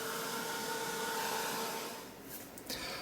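A hair dryer blows steadily to dry a freshly painted Halloween art journal page, a continuous airy whoosh that wavers slightly toward the end.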